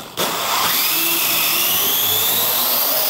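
A Parrot AR.Drone quadcopter spins up sharply and hovers with a loud, steady high-pitched rotor whine and buzzing that holds without a break.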